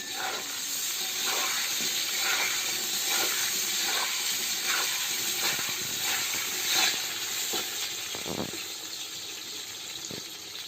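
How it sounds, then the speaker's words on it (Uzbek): Potatoes sizzle loudly in hot oil, a continuous crackling hiss broken by occasional stirring clatters, close and without talk. "Endi kartoshkamizni qovurib olamiz"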